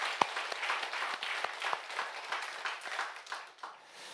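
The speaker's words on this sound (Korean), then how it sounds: "우리 박수로 하나님 앞에 우리의 마음을 표현하겠습니다" A church congregation claps during a Sunday morning worship service, a sustained round of many hands with distinct sharp claps popping out, fading unevenly toward the end.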